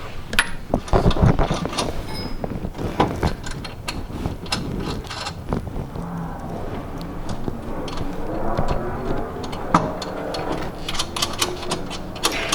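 Rapid ratchet clicking while a Megan Racing coilover is tightened on an Infiniti Q50, coming in close repeated bursts mixed with metallic clinks and handling noise.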